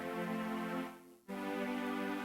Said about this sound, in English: we actually want to play single note chords on the lower keyboard